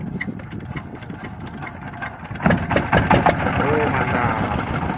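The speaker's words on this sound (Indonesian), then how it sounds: "Kemudian mesin dinyalakan." A traditional Rembang fishing boat's engine cranks and catches, turning from a quiet rumble into a louder, steady running drone, with voices heard faintly in the background.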